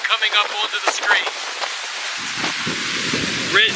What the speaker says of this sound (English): Water coming up onto the screen.